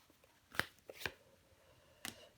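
Tarot cards are handled and laid down on a table in a few soft, sharp snaps and slides, close and quiet, with pauses between them.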